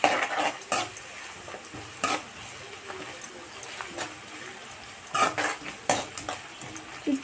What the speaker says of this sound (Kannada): ಅರಿಶಿನ ಹಾಕಿ ಇದನ್ನು ಸ್ವಲ್ಪ ಚೆನ್ನಾಗಿ ಮಿಕ್ಸ್ ಮಾಡಿಬಿಡ್ಬೇಕು.